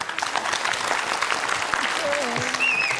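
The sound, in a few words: audience clapping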